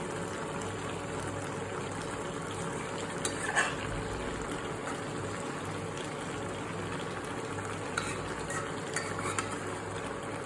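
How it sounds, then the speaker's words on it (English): Fish soup curry gently stirred in a cooking pot, a steady low bubbling simmer with faint scrapes and light clinks of the spoon against the pot throughout. "Very easily, gently, you have to stir this."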